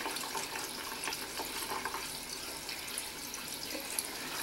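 Warm water runs steadily from a sink tap while makeup brushes are rinsed, a soft continuous hiss and splash with faint drips, close by and alone.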